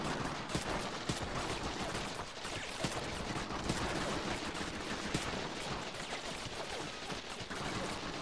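Sustained rapid gunfire from Medal of Honor: European Assault during a farmhouse liberation fight, steady automatic shots crackling continuously at fairly low volume with no talk.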